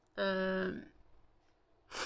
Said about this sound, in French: J'avais éternué.